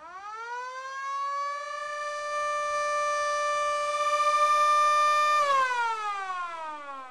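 A school siren wailing loud and alone, a mechanical civil-defense style tone that rises, holds a long steady pitch, then slides downward at the end.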